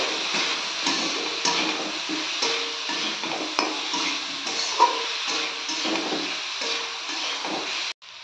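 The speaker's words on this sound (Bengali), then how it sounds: "কুলগুলো আমি 2-3 মিনিট ভালোভাবে একটু নেড়ে নেব।" Jujube (kul) pickle being stirred in a pan over a medium-high gas flame, with a steady fry and sizzle under repeated scraping strokes of a spoon against the pan, close and even, with no talking.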